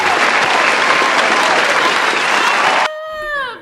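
Loud crowd applause and cheering greet a guest introduced on a podcast, filling most of the moment before a voice starts talking at the end.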